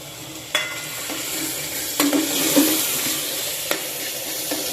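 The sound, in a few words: spices frying and being stirred for chicken gravy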